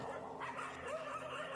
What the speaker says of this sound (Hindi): कुत्तों के भौंकने की आवाज़ें एक बार फिर आ रही थी